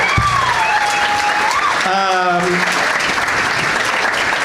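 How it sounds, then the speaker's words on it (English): A round of applause from a podcast studio audience for comedians Mark Normand, Justin Thompson and Dave Siegel, steady and moderately loud, with a voice talking over it partway through. "One more round of applause for all three of my guests: Mark Norman, Justin Thompson, Dave Siegel."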